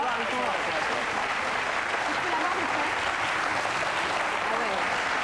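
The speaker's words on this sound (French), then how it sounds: "je vous demande de les applaudir" A television studio audience applauds two Olympic table tennis bronze medallists from Sydney, a loud, continuous roar of clapping that holds level throughout, with voices mixed into the crowd noise.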